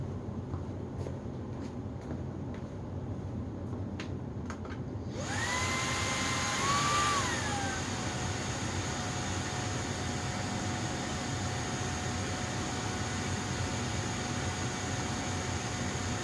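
A Kyvol V20 cordless vacuum cleaner with its small nozzle fitted starts up mid-clip and keeps running as a steady, close airy roar with a high whine, after a quieter stretch of faint clicks.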